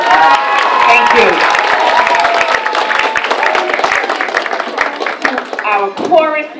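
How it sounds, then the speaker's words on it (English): A school audience at a Veterans Day assembly claps for veterans, with busy, uneven clapping from many hands and a few cheers, and voices talking over the applause near the end. "Let's give our veterans another round of applause,"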